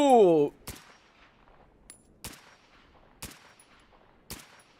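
Gunshots in the game GAMMA: a short vocal exclamation, then four sharp, isolated shots spaced about a second apart, each with a quick decaying tail over near silence.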